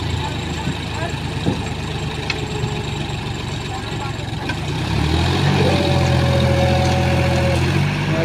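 A John Deere 5205 tractor engine idles nearby with a steady low rumble, rising to a heavier, louder drone partway through, while people talk over it.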